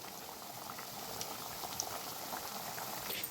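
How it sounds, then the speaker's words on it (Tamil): Cassava vada deep-frying in hot oil, a steady dense bubbling sizzle close by that holds evenly throughout without talk. "நேரம் ஃபுல்லாக அந்த எண்ணெயில் இருக்கிற அந்த சவுண்ட் எல்லாம் அடங்கினதுக்கு அப்புறமா தான் நம்ம எடுக்கணும்"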